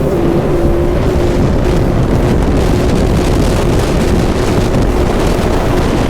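A stand-up jet ski roars across the water on a buoy course, with a loud steady engine drone, spray and heavy wind buffeting the microphone throughout.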